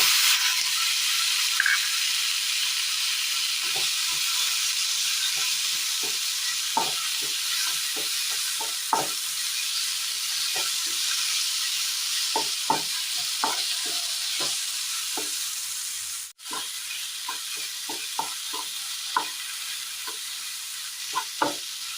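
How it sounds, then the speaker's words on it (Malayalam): Boiled pumpkin and ash gourd are stirred into chillies frying in hot oil for a Kerala mezhukkupuratti. A steady loud sizzle runs throughout, broken by repeated scraping and stirring taps of a spoon against the pan. "ഇതിലേക്ക് വേവിച്ച് വെച്ചിരിക്കുന്ന മത്തങ്ങയും കുമ്പളങ്ങയും ചേർത്ത് കൊടുക്കാം"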